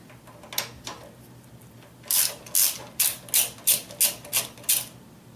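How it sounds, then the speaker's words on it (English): Ratchet with a 10 mm socket clicking as the valve cover bolts come off a Kawasaki FH500V small engine: a few faint clicks at first, then a close, crisp run of about eight evenly spaced ratcheting bursts. "locate and remove the valve cover using your 10 millimeter socket to expose your rocker arms"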